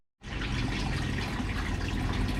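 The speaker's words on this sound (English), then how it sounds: "So I'm still just topping up the water." Water pours steadily into a garden pond's sieve filter tank as it is topped up, a continuous close splashing gush starting abruptly and holding at an even level without pause.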